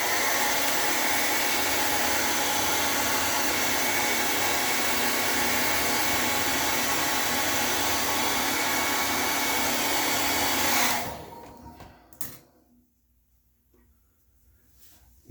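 Hair dryer blow drying a beard during an at-home trim, a steady loud whooshing blast held for about eleven seconds before cutting off abruptly into near quiet.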